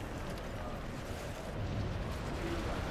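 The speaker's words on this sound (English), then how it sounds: "There's another explosion." Explosions in the Crackdown 3 video game make a dense, continuous roar of blasts and rumbling debris, swelling slightly toward the end, with no talk.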